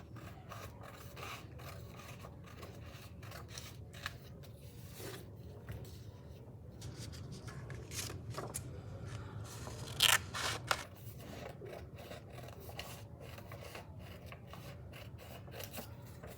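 Scissors cut paper into tall, thin tree shapes with quiet, irregular snips and rasping slides. A brief louder burst of cuts comes near the middle, set against a faint, steady background hum.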